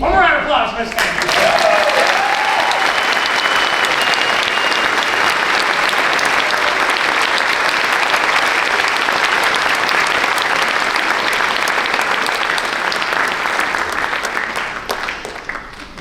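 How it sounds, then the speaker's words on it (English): An audience applauds at a high school spring choir concert, a dense, steady wash of clapping from a large crowd that holds at full strength for about fifteen seconds before thinning out at the end. "One more round of applause, Miss Cunningham."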